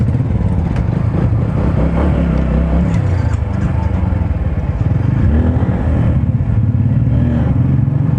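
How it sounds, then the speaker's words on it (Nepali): A motorcycle accelerating and picking up speed, its engine roaring loud and steady from close by, with a constant rumble and rising revs throughout. "कस्तो चाँडो पिकअप लिन्छ नि बाइकले"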